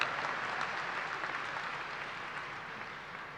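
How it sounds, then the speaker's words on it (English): Steady, dense applause from a large audience at a graduation ceremony, following a sung performance, sustained at an even level and slowly tapering off near the end, with no talk over it. "They definitely deserve a round of applause for that."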